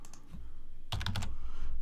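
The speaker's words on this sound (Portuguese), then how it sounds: "Vamos digitar Rafael," Fingers type on a computer keyboard while filling in a form: a quick cluster of clicking keystrokes close by, over quiet background hum with no talking.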